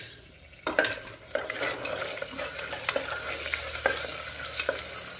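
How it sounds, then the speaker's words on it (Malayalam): Ginger and garlic sauté in hot coconut oil for a green peas masala, a steady close sizzle broken by several sharp scrapes and clinks of a spoon stirring against the pan, with no talking. "കുറച്ച് ചെറിയ അരഞ്ഞ ഇഞ്ചി പിന്നെ വെളുത്തുള്ളി അതൊന്ന് നന്നായിട്ട് വഴറ്റിയെടുക്കണം"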